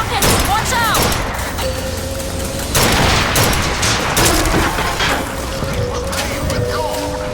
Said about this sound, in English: Rockets, watch out!